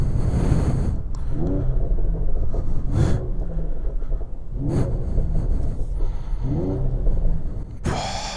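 A car engine rumbles loudly nearby, revving up several times in surges over a steady low idle.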